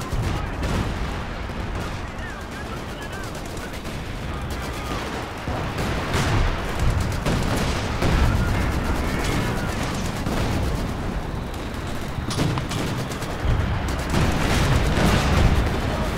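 Heavy artillery and gunfire boom and rumble through a dense World War II battle in the strategy game Company of Heroes 2, a 4v4 Annihilation match, with repeated blasts and continuous firing layered over one another.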